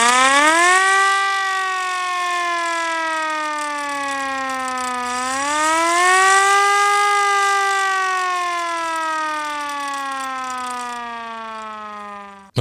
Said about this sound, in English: It's our police siren.